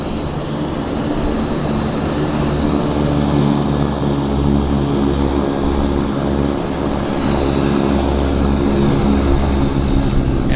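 An Air Canada Boeing 787 heavy jet taxis at Vancouver airport, its engines giving a loud, continuous, steady drone with a low tonal hum that holds without a break and no one speaking.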